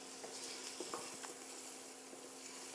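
Garlic is stirred in a hot pan, giving a quiet, steady sizzle broken by a few soft scrapes of the stirring, with no talking.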